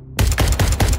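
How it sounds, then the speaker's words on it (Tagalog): Rapid bursts of loud gunfire from an Armalite rifle, a quick run of sharp close shots in steady rhythm with no voices. "Kinabahan ako nang marinig ang malalakas na putok ng baril"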